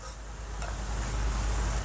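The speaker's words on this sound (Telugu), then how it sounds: "ఇప్పుడు ఈ పకోడీని కూడా మంచి బంగారు వర్ణం వచ్చేంత వరకు ఫ్రై చేసుకుందాం" Pakoda batter frying in hot oil in a kadai until golden, a steady soft sizzle and hiss running unbroken throughout at moderate, close level.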